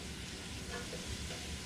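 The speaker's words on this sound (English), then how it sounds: "Now we're just going to continue to saute these." Garlic and onions for shrimp and sausage gumbo sauté in a pot, producing a soft, even sizzle that holds steady throughout the short stretch with no talking.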